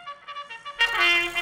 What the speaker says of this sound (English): Oh, it's the sound of a cuckoo clock.